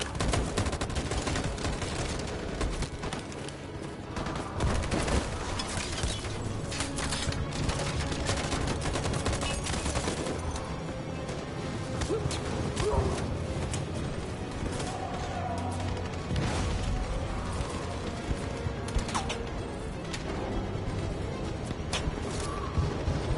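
Sustained video game gunfire, dense overlapping bursts of rifle and automatic shots that stay loud and continuous throughout, with crashes and booms mixed into the din of battle.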